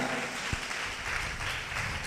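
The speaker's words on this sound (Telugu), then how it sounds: "గట్టిగా చప్పట్లు కొట్టి గట్టిగా కొట్టాలా, గట్టిగా" A church congregation claps loudly and steadily, a dense wash of applause filling the whole moment with a couple of sharper individual claps standing out.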